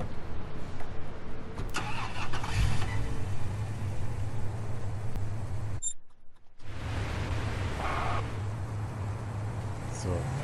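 A police car engine cranks and starts in Police Simulator, then idles and pulls away with a mid-pitched hum, briefly cutting out before resuming, while people talk throughout.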